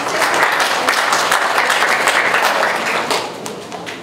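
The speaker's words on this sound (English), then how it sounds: "a big round of applause, please." An audience at a college law department's IPR Day event claps in a dense, steady round of applause that tapers slightly toward the end.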